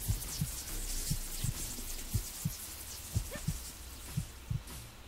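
Low-health heartbeat warning in the video game Supraland: soft, low paired thumps repeating at a steady pulse, moderately quiet under a faint hiss of game ambience, with no one talking.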